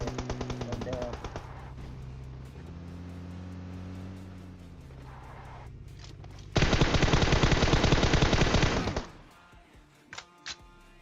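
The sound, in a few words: gunfire in video game PUBG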